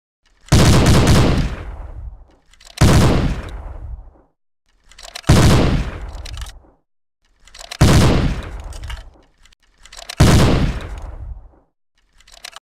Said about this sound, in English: This is the Browning machine gun.